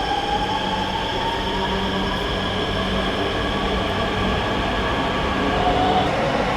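The RapidX Meerut–Delhi semi-high-speed train at Duhai station makes a steady, loud rail hum. Faint high wheel or brake squeals run throughout, with no talking.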